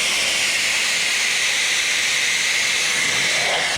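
A Ryobi automotive pressure washer sprays steadily at close range, a loud, unbroken hissing rush that runs throughout and cuts off right at the end.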